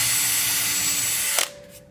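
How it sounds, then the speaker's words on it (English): A power drill bores a pilot hole for a terminal on a homemade crystal radio board, a steady close whir that runs unbroken for over a second before cutting off abruptly and spinning down. "I'll go ahead and drill the pilot hole"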